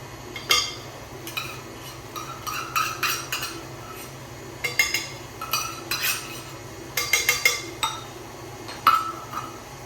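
Spoon clinks and scrapes against a container while pumpkin puree is scooped out in a kitchen, a series of short, close metallic knocks and scrapes in irregular clusters with pauses between them.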